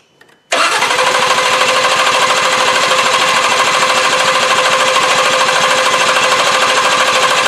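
A 3.7 Duratec V6 swapped into a car, cranking with the ignition key: after a short quiet moment the starter kicks in loudly and churns in a steady, rapid, buzzing rhythm without the engine catching.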